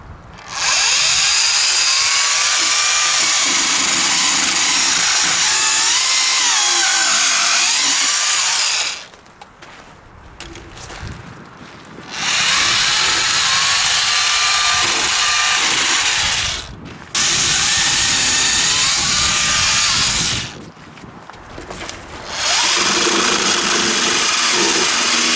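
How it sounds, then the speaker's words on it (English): A Ryobi 40-volt battery pole saw cuts tree branches. The loud, close electric motor whines in three long bursts, separated by short, quieter pauses as the blade comes off the wood. "First I'll do a few cuts with the Ryobi."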